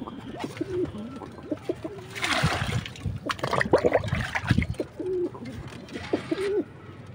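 Pigeons cooing close by in a loft, with repeated soft throaty coos over a background of rustling and splashing, and no talking.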